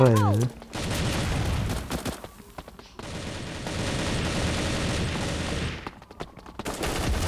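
Loud, dense bursts of rapid gunfire from a shooter video game, sustained for several seconds, with brief pauses and a short rising tone at the start.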